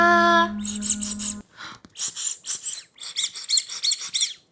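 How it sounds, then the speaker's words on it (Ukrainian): A rubber squeaky toy duck from a festival, squeezed several times: a steady tone at first, then a string of short, high, close-up squeaks in quick bursts, with no talking. "у мене також є качечка, яку мені подарували на фестивалі"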